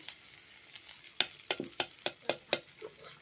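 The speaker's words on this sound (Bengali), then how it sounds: "গাইস এখন হচ্ছে কড়াইতে আমি হচ্ছে নাড়াচাড়া দিব" Onions frying in oil in a wok while being stirred, a soft sizzle under a series of about seven sharp scraping strokes of a utensil in a steady rhythm, faint and close, with no talking.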